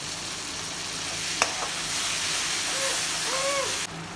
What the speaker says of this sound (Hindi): लहसुन अदरक और प्याज के पेस्ट ला बढ़िया से भून दे